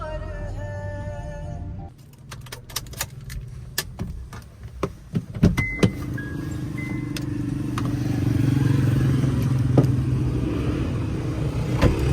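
A car rolls and idles while being parked at a mart, its engine rumbling low beneath a series of sharp clicks and clatters, then a steadier motor drone building toward the end.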